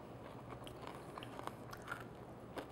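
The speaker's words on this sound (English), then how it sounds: "it's crunchy, it just snaps and just dissolves in your mouth" Someone bites into crunchy homemade pumpkin seed brittle: quiet, close crackles and snapping crunches scattered across a few seconds, with no talking.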